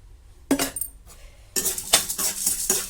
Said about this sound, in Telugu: ఇవన్నీ ఇప్పుడు వేసి వేయించుకుంటున్నా.